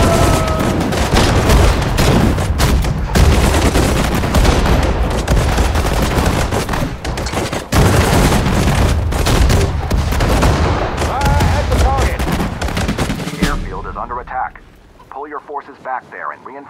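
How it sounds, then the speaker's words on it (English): Infantry gunfire in the Sudden Strike 4 Pacific War battle at Guadalcanal crackles in dense, continuous volleys of rifle and machine-gun bursts with booming blasts mixed in, under frequent short voiced unit responses, before thinning out near the end. "Fire at the target."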